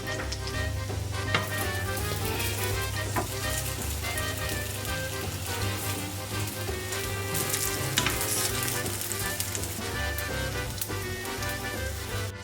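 French toast skewers sizzle and spatter steadily in a hot frying pan, a dense crackling hiss of oil with a low hum beneath, heard continuously and fairly close.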